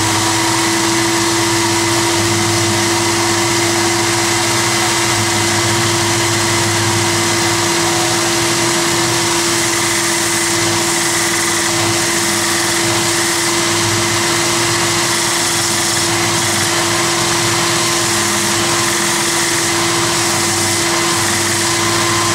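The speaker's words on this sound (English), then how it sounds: "we are going to use that to guide us into the sanding machine" A small belt sander used in acoustic guitar building runs continuously at close range, a loud steady whine and roar that never lets up.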